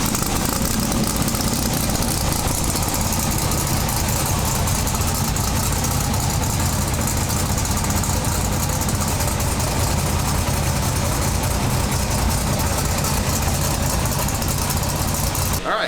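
Twin turbo big block car engine, freshly reassembled, idling steadily and loudly up close on its first fire-up, a dense continuous rumble with no pauses until it cuts off at the very end.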